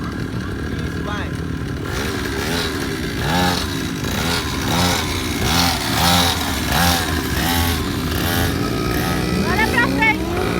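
Motorcycle at a wheelie meet outside Corinthians' Itaquera stadium: a close engine revving and accelerating in repeated surging pulses, with people talking over it.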